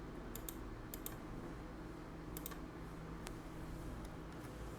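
Fingers type search text on a computer keyboard in short, light bursts of clicks with pauses between them, faint and close against a quiet room hum.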